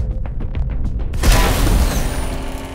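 A Gauss gun fires in STALKER 2, a single sudden heavy boom that follows a quieter stretch of soft ticking, then rings out into a long broad decaying rumble.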